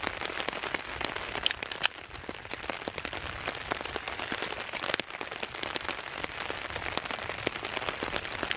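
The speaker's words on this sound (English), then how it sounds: "But the rain has definitely just kicked up again." Steady heavy rain in an Australian forest during a thunderstorm, a dense, continuous hiss of drops pattering on leaves and surfaces close by, with occasional sharper splats and no voices.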